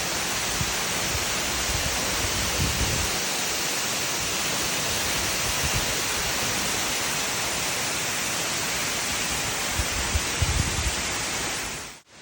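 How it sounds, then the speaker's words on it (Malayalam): Palaruvi waterfall near Thenmala in Kerala pours steadily, a dense, even roar of falling water that holds at the same loudness for the whole stretch before cutting off abruptly at the end. "നോക്കൂ, ഇതാ വരുന്നു പാലരുവി വാട്ടർ"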